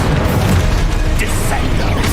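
An Exposo spell, an Expulso-style blast cast in Hogwarts Legacy, bursts loudly amid dense, noisy combat sound that stays intense throughout the short moment.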